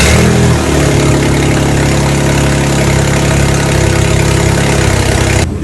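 A Mercury Monterey being checked for misfires (P0316/P0300) cranks and fires, then idles loudly and steadily up close before cutting off at the end, with no talking.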